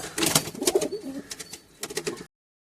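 Pigeons on a rooftop bird farm coo in soft, repeated bursts while feeding on scattered sweet corn, fairly close and steady with short pauses, alone without talk.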